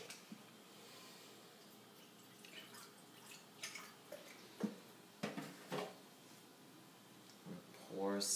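Apple cider vinegar poured into a pot of mustard greens, a faint liquid trickle with scattered drips and splashes, a voice speaking softly over it.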